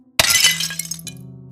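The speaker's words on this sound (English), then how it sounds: "The sound of shattering ceramic echoed from the hallway." A ceramic vase shatters on a floor in a sudden loud crash, followed by scattered tinkling fragments and a lingering hum as the pieces settle, with no voices present.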